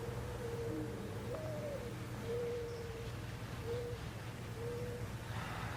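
Repeated owl-like hoots in an eerie Backrooms scene, a few steady mid-pitched calls spaced a second or so apart over a constant low hum, fairly clear and alone.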